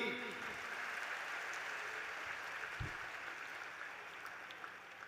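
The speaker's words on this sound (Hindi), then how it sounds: "बजाओ ताली।" A large audience at a Bageshwar Dham religious gathering claps on cue. The applause is faint and distant, a continuous wash of clapping that slowly fades over several seconds.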